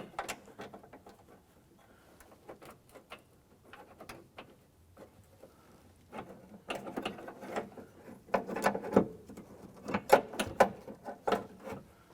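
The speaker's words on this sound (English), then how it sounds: "Go ahead and get our screws started." A ratchet starting screws into a door latch assembly on a 1994–2004 Chevrolet S10, quiet clicking bursts and scattered mechanical taps close by, growing busier and louder toward the end.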